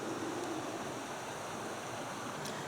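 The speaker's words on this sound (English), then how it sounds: "So you can see how the water makes its way down" Water flowing steadily down from the falls toward the lower river at Pedernales Falls State Park, a soft, continuous wash of rushing water heard at a distance, with no voices.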